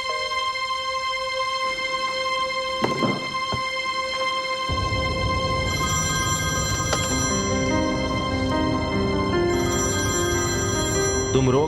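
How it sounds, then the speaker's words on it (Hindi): A telephone rings with a steady electronic tone repeating over and over, loud and close, joined midway by a swelling musical score underneath. "फोन उठाओ, फोन उठाओ, जल्दी करो।"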